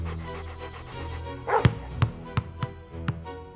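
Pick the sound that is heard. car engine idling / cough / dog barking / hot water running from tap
dog barking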